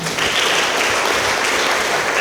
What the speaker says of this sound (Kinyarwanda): Terebye mu amashyi menshi.